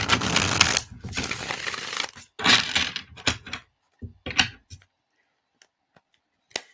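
Tarot cards riffle and shuffle in close, crisp bursts, first a long rustling run, then shorter flicks and taps separated by silence.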